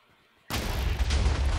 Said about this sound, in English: Massive boom, Chaos explosion. Cannon.